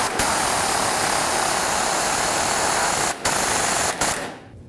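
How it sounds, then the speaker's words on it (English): Power tool tightening the fuel tank strap bolts on a 1994-2004 Chevy S-10, a loud, continuous close-up whir broken by two brief pauses before it winds down at the end. "Now we're just going to go ahead and tighten up all of our bolts."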